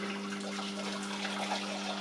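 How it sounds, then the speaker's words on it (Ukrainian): Boiling water from a kettle streams steadily into a measuring container for a two-litre marinade, a continuous close splashing pour with a faint electrical hum underneath. "Зараз сюди я з чайника наливаю, тут в мене є мірка, рівно 2 літри води."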